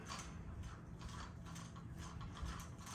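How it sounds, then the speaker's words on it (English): Metal tubing sections of a Mainstays 6-foot combo floor lamp are screwed together, producing continuous close grinding and ratcheting rattles of threads turning. "all the tubing will screw onto each other"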